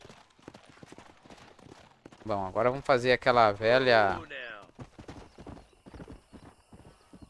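Horses in Red Dead clip-clop steadily, close by, and one horse lets out a loud whinny midway, while someone speaks Portuguese over the hoofbeats.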